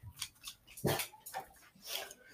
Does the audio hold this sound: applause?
no